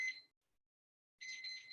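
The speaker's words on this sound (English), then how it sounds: "I'm going to set a timer here for 15 minutes" A kitchen timer being set during a plant-based cooking class gives a short electronic beep, falls silent, then sounds a steadier, longer high tone.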